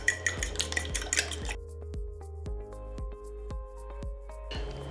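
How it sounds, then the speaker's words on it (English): A whisk or fork beats eggs in a bowl for coconut shrimp batter, starting with quick, clattering strokes that give way to slower, ringing taps against the bowl, close up and with no talking. "first we're going to go ahead and beat our eggs"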